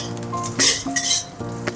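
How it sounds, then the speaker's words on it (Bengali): Peanuts and raisins frying together in a spoonful of ghee in a pan, with metallic scraping and clinks of a spoon against the pan over a soft sizzle, several close, fairly loud strokes. "বাদামটা ভাজা হয়ে গেছে, কিশমিশটাও দিয়ে একসাথে ভেজে নেব।"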